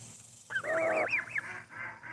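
A cackling goose honks in a rapid wavering series of high nasal calls, close and clear, with a lower tone underneath, then quieter noises after it.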